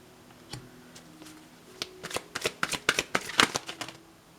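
Tarot cards being shuffled by hand, a few soft riffles at first, then a quick burst of crisp, close card flicks and snaps in a quiet room.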